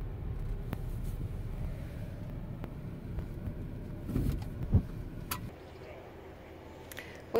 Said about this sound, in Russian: Сейчас поставим машину